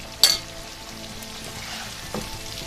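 Cumin and nigella seeds sizzle in oil, a steady low crackle with one sharp clink near the start and a faint knock later, close and fairly quiet.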